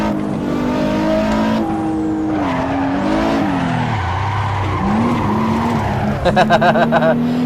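Game Nissan GT-R Nismo engine revving steadily with shifting pitch, tires screeching through a long drifting slide, then a burst of rapid rattling near the end.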